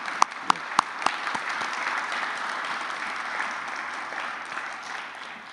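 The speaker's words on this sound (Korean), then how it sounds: "크게 박수로 환영해 주시기를 바랍니다" Church congregation applauds to welcome elders, a few sharp separate claps at the start swelling into a sustained, even wash of crowd clapping that runs to the end without speech.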